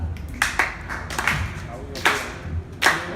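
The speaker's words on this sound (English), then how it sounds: "Come on, somebody clap." Several audience members clap a loose beat at a birthday party stand-up show, five or six sharp claps spaced irregularly over low background chatter.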